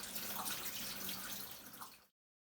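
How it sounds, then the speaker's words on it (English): Tap water runs steadily into a sink while dirty potatoes are scrubbed clean, a close, even splashing rush that stops abruptly after about two seconds. "So you want to get a good wash in. Just scrub them down one at a time."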